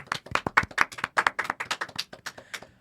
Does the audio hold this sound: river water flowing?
no